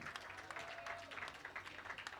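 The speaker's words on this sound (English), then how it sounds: "Another round of applause to Standard Bank." Applause from an awards ceremony audience for a sponsoring bank, a steady spread of clapping at moderate distance, fairly faint throughout.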